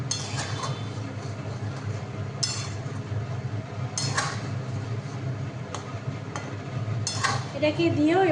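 Chicken masala spices are stir-fried in a pan, giving a soft sizzle under repeated scraping and clinking of a metal spoon against the pan, close and moderately loud, with a voice speaking faintly near the end.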